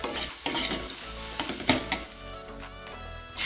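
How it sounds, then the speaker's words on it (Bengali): Dal fried with spices in a pan sizzles loudly and close, with a spoon scraping and stirring in irregular strokes and clanks against the metal, and no talking. "মশলাটার সাথে এটাকে আমি কিছুক্ষণ আরও ভাজা ভাজা করে নিয়ে এবার জল দিয়ে দেবো ডালটাকে সিদ্ধ হতে"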